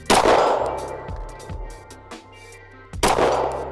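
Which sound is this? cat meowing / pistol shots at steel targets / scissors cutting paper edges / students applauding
pistol shots at steel targets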